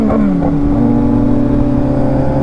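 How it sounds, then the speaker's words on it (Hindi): A Kawasaki ZX-10R and a Z900 superbike rev loudly together close by, a thick, steady engine roar with shifting pitch throughout. "दो सुपर बाइक मिल के ऐसी लाउड हो रखी है ना"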